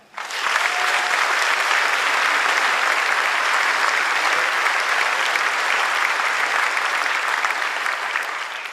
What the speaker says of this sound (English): Please join me in a round of applause for our outstanding faculty.